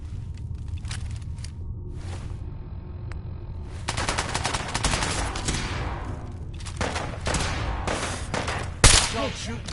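Bursts of automatic gunfire in Fallout 4, rattling volleys that grow denser midway with a sharp louder shot near the end, heavy and close with occasional faint talk.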